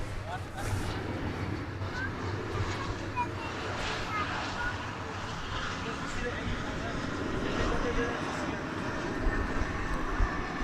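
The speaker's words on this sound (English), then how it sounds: "the backlog of aircraft on runway 18 left is clearing up now" Aircraft rumble on runway 18 left at Dallas/Fort Worth airport, a steady low broadband roar with distant engine whine persisting throughout, moderately faint, with voices talking over it.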